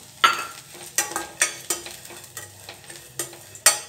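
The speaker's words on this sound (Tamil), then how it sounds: "இந்த நெய்யிலேயே இந்த அவலையை வறுத்துக்கலாம்." Flattened rice (aval) roasting in ghee in a pan, heard as a soft continuous sizzle with repeated scraping, stirring strokes and occasional spoon knocks against the pan, close and clear with no talking.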